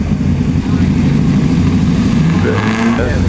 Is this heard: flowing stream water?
no